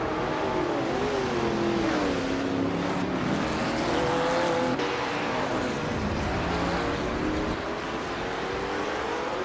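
A 1970 McLaren M6 GT prototype racing on a vintage track in a video game, its engine roaring loud and steady with wavering, rising and falling pitch throughout, no talk.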